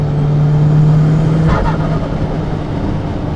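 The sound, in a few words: Audi TT bimoto accelerating and decelerating, dump valve noise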